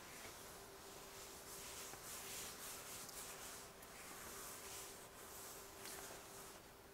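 An eraser rubs writing off a board in a chemistry lesson, giving a quiet continuous scrubbing with repeated short strokes, faint and close, with no talking.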